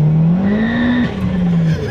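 A turbocharged 300 hp Chevy Sonic hatchback accelerates hard. Its loud engine note climbs steadily in pitch, dips briefly at a gear change, then pulls again, with no talking.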